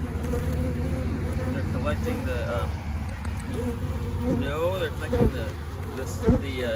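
Honey bees buzz steadily at an open frame of a flow hive, a close continuous drone with a voice talking over it throughout.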